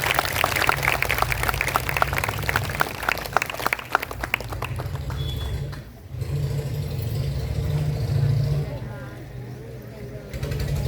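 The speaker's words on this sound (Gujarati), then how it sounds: "તો આ બધી વિદ્યાર્થીનીઓને આપણે તાળીઓના ગડગડાટ સાથે વધાવીશું" An audience claps to welcome schoolgirl students at a girls' school graduation ceremony, steady dense applause over the first half with a low engine-like hum underneath, then fading into background murmur and room noise.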